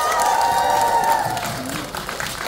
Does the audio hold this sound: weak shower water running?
no